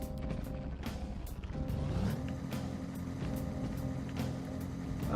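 A car drives along railway tracks in the Persona 5 video game, a steady engine rumble with repeated sharp clacks and knocks at irregular intervals, fairly quiet and without talk.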